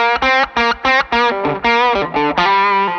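An electric guitar played through a Tone City Big Rumble overdrive pedal gives a string of crunchy, distorted chords and notes, loud and close, in short rhythmic bursts ending on a sustained ring.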